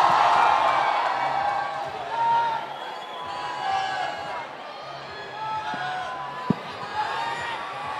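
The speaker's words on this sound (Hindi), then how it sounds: "जोरदार तालियां." At a mall event in Mumbai, a crowd cheers and applauds for the champion of a dare challenge, with steady broad clapping and whoops while voices carry underneath.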